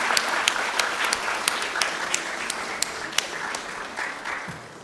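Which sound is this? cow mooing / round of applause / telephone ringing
round of applause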